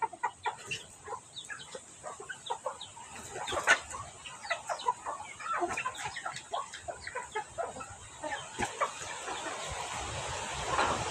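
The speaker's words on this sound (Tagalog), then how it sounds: "Manok." Chickens cluck in a busy, overlapping chatter of short calls, some near and some farther off, continuing throughout.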